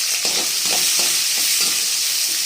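Coarsely chopped shallots fry in hot oil for mutton kothukari, giving a loud, continuous, close sizzle with a few soft stirring scrapes underneath.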